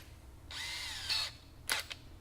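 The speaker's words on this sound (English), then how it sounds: "I like to go ahead and get a drill and drill you a small little hole in there" A power drill bores a small hole into the intake of a 2018 Ford Mustang, with a sustained whine of about half a second, a brief pause, then two short, sharp bursts close to the mic.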